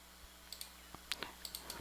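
A computer mouse is right-clicked while working in After Effects, giving a string of faint, sharp clicks over quiet room hiss.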